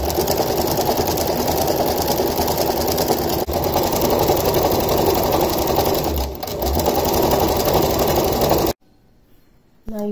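Domestic sewing machine fitted with an embroidery foot stitching along a line, a loud steady mechanical whir that runs for several seconds, dips briefly, then cuts off abruptly near the end with quiet room tone.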